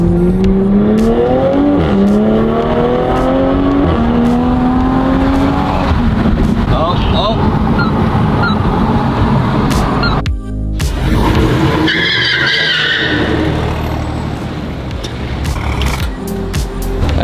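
A Toyota Supra with a VRSF downpipe revs hard, the engine and exhaust rising and falling loudly with tire squeal and turbo noise, sometimes under excited talk.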